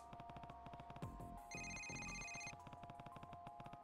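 Phone ringing with an incoming call in Yakuza Kiwami, a repeating electronic ringtone pulsing steadily over game background music, with a brief sustained chime layered in midway.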